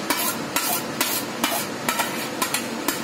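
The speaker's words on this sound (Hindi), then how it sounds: "और अब हम जो है इसको अच्छे से मिक्स कर लेंगे" Shredded cabbage frying in plenty of oil in a pan, stirred with regular scraping knocks of a spoon every half second or so over a continuous loud sizzle, close up and without speech.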